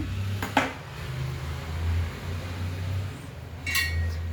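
An idli steamer pot clinks and clatters as it is handled and set on a gas stove, a few metallic knocks at the start and end over a steady low kitchen hum.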